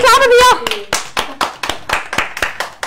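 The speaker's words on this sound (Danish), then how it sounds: "Kan I lige klappe, Mia?" A small group claps hands in a steady, quick rhythm right after a voice calls out a welcome, roughly a dozen sharp nearby claps continuing alone.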